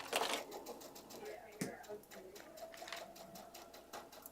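A sewing machine stitching dress fabric at high speed, a rapid run of mechanical needle clatter with a brief pause, fairly quiet and close, with a voice speaking over it.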